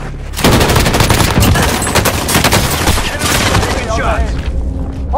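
Machine gun fire in Call of Duty: Warzone on Rebirth Island, a dense stream of loud rapid shots and booms running almost the whole way, with game radio voices and effects mixed in.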